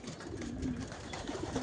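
Pigeons give a low, soft cooing call outdoors, faint and continuous against background noise over a short stretch.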